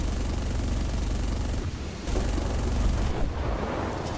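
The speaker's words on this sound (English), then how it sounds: "The ground impact of the strafing run was actually pretty cool too" Aircraft cannon fire rakes ground targets in War Thunder, a dense continuous roar of gunfire and impacts with a short dip partway through before the barrage resumes.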